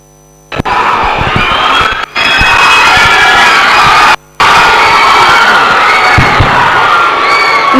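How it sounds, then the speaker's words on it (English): Loud crowd cheering and whooping after a dance performance at a college farewell event, a dense roar of shouting voices with brief dropouts. "Let's give them a big round of applause."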